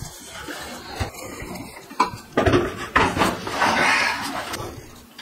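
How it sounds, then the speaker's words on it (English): A built-in kitchen oven is dragged out of its housing: scraping, clunking and rattling of metal, rising to a sustained grinding slide over several seconds, heard up close. "just going to remove the oven so that we can see behind the oven"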